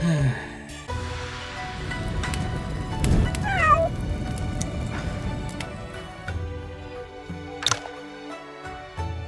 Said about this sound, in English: The cat dug out a few chestnuts from the ashes